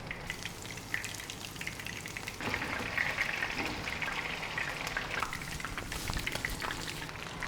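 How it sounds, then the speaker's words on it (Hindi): Seekh kebabs fry in a pan over a low flame with a steady, close sizzle and fine crackle that swells slightly partway through, with no voices. "इसी तरीके से मैं बाकी के सारे कबाब फ्राई कर लूँगी"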